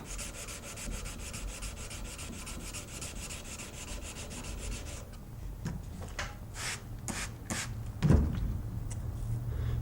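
A steel knife blade being hand sanded with sandpaper in repeated back-and-forth strokes, a rhythmic rasping scrape close by, steady at first then slower with separate strokes and a soft knock near the end.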